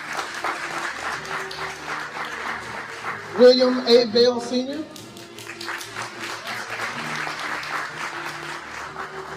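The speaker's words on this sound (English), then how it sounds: "we'll give you a round of applause" An audience at a sneaker gala claps and applauds continuously under a steady hum of crowd noise while a voice reads out a list of names over the sound.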